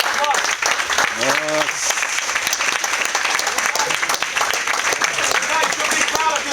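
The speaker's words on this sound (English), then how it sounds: "I want to give you guys a round of applause" Students at a martial arts academy get a round of applause, steady dense clapping from a group in a gym, with voices talking and calling out over it.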